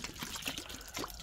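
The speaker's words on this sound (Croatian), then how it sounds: "Mora voda malo da se sipa." Water is poured out for a group of hungry stray cats, making a close, steady splashing trickle with no voices.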